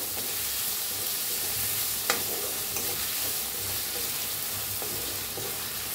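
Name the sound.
chopped onion being stirred and fried in a pan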